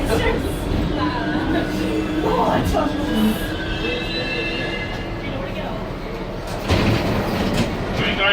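Rumbling New York City subway train noise with rail clatter and a brief squeal, steady throughout, with people talking faintly in the carriage.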